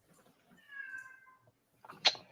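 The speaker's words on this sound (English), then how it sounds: "That's my cat." A house cat lets out a single drawn-out meow, faint and somewhat distant, followed by a short sharp noise in a quiet room.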